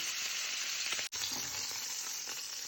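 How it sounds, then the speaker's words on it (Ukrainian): Chicken pieces fry in a pan until golden, a steady close sizzle and crackle of hot oil with a brief break near the middle as the food is stirred. "Обсмажую до такого гарного золотистого кольору."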